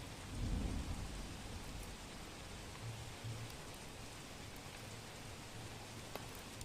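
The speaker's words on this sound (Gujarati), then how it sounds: "પોરબંદરમાં ઝરમર વરસાદ શરૂ થતાં જ ઠંડક પ્રસરી છે" Drizzle falls in Porbandar during the monsoon, a steady, even hiss of rain on surfaces with a low rumble near the start and no voices.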